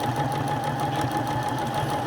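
A sewing machine stitches around a pillow cover, a steady close mechanical whir with rapid even needle rhythm running without pause.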